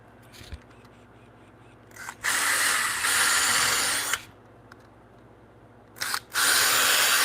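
A power drill with a small bit bores into wood during a bunk bed build, two loud sustained whirring bursts of about two seconds each, separated by a quieter pause, close by.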